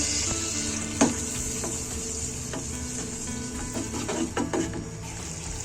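Masoor lentils fry in a pan with prawns for a pui shak stem dish: a steady soft sizzle broken by scattered clicks and scrapes of stirring.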